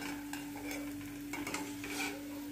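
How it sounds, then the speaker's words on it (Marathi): Fox nuts (makhana) dry-roasted in a hot wok while being stirred. Faint, steady rustling and scraping runs over a constant hum, with light clicks and no voices. "आता हे मखाने पण आपण भाजून घेऊ, चांगले कडक करून घेऊ"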